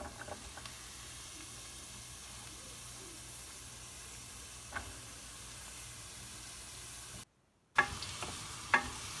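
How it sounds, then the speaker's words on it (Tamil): Chopped bottle gourd frying in a pan with onion and green chilli, a soft steady sizzle and hiss with faint stirring clicks, broken by a brief silence near the end. "இப்போது அரிஞ்சு வச்ச சுரக்காயை போட்டுடலாம்."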